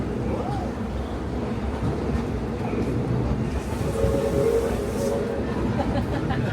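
The Disneyland Railroad train rolls along its rails, a steady low rumble and clatter of wheels throughout, with a faint squeal near the end and voices murmuring softly in the background.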